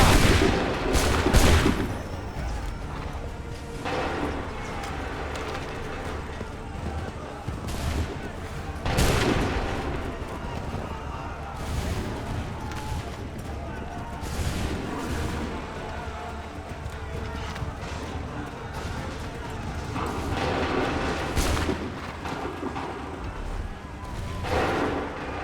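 A volley of musket fire rings out in Assassin's Creed 3, with several loud, cracking shots spread over a long stretch of continuous battle noise, while shouted voices carry over the din.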